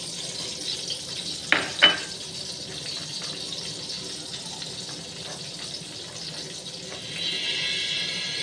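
Onion paste frying in a pan for a chitol fish curry gives a steady, soft sizzle. Two sharp clatters come early, and a brighter hiss swells near the end, with no talking.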